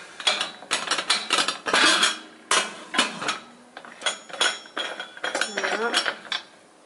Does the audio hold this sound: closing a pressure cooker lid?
yes